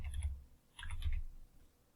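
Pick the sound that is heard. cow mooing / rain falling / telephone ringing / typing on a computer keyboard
typing on a computer keyboard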